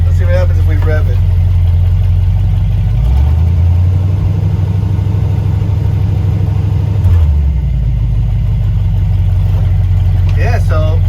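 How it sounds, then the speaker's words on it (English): A car engine idling loudly after cranking, then revved for several seconds to a higher steady drone before settling back, with people talking over it. "Let's see what happens if we rev it."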